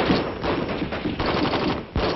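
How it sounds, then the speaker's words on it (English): An M14 rifle firing in full-automatic mode, heard as a dense, loud, continuous burst of rapid shots with no speech. "The M14 rifle is designed for both full automatic and semi-automatic fire."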